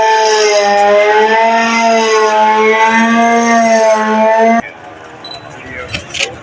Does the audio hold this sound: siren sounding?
yes